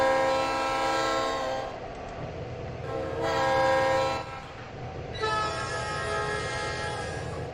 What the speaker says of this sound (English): That horn.